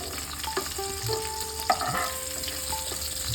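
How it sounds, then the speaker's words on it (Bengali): Capsicum and tomato frying in a pan for a vegetarian paneer dish, giving a steady close sizzle with occasional stirring scrapes, no voices. "ক্যাপসিকাম আর টমেটো ভাজা হয়ে গেছে, এরপর তুলে নেব।"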